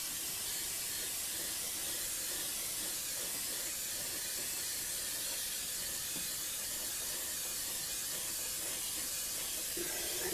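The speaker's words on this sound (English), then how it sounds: "we're moving the airbrush pretty quick on this" An airbrush sprays paint onto a model Firebird body, a faint, even hiss that runs unbroken throughout.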